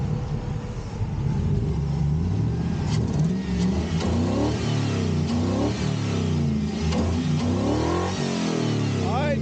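A junkyard Chevrolet Tahoe's V8 revs repeatedly while driving, its engine pitch climbing and dropping through several loud, close throttle sweeps with a low rumble underneath.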